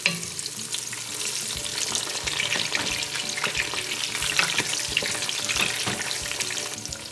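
Eggplant mixture frying in a pan for smoked catfish soup, a dense, continuous crackling sizzle close up with faint stirring scrapes, no voices.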